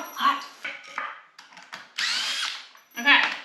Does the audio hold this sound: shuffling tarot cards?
no